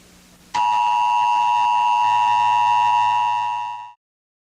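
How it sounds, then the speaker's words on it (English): A loud, steady Emergency Broadcast System test alert tone with harsh, layered pitches sounds for about three seconds before cutting off abruptly. "This station is conducting a test of the emergency broadcasting system."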